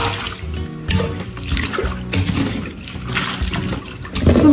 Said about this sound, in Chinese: 把表面的淀粉洗干净